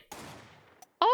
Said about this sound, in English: It sounded like a gunshot.